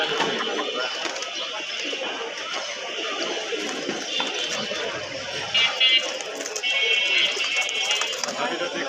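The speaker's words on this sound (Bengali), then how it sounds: "এখানে বিভিন্ন জাতের কবুতর আছে" Pigeons at a busy pigeon market, mostly Siraji breed, coo and rustle under a background of crowd chatter and people talking nearby.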